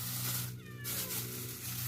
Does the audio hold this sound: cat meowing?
yes